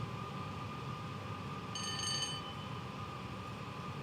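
Double-headed Class 20 diesel locomotives on a merry-go-round colliery service in a train simulator game, a faint steady engine drone and rail rumble with a brief high squeal partway through.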